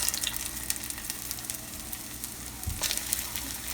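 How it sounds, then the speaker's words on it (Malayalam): Aloo tikki shallow frying in hot oil on a full flame, a steady close crackling sizzle that carries on without pause and swells briefly near the end. "ഇനി നമുക്കിതിലേക്ക് ഓരോ ടിക്കി വെച്ച് വറുത്തെടുക്കാം."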